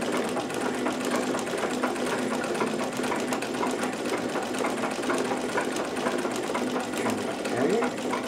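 Necchi BU Nova sewing machine stitching a decorative zigzag, a loud, steady mechanical whir with a fast rhythmic clatter running continuously and close up.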